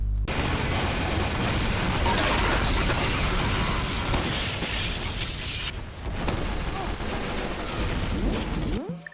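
Critical sticky bomb blasts in Team Fortress 2 combat, part of a dense, loud barrage of explosions and gunfire that rumbles for several seconds, briefly dips, then surges again before cutting off.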